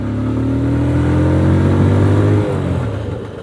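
A TVS Apache 160 2V motorcycle riding at about 50 km/h gives a loud, steady engine drone close by, then drops off sharply as the bike brakes hard near the end.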